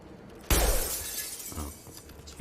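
Glass shattering from gunfire in the sci-fi game Mass Effect, a single loud sudden crash followed by a bright, fading tinkle of falling shards.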